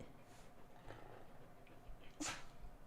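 A single quick sneeze bursts out near the end, preceded by faint snuffling and breathing in a quiet room.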